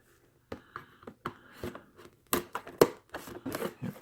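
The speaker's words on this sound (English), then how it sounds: "Still need the scissors." Scissors snipping open the packaging of Bluetooth headphones during an unboxing, a series of sharp close cuts and crinkles with short pauses between them, fairly quiet.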